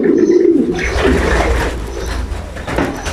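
Several pigeons coo in low, repeated throaty phrases, fairly close and loud, in a racing pigeon loft, with faint background rustle and no talking.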